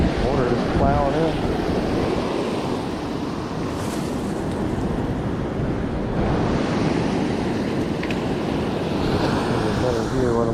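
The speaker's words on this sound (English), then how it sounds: "Water is plowing in." Beach surf at Micklers Landing rushes into a freshly dug hole with a loud, continuous churning wash mixed with wind buffeting on the microphone, and no talk.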